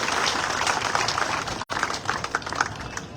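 Loud, dense crowd applause fills the space at a political rally for Satish Poonia, steady throughout apart from one brief dropout, with no talking over it.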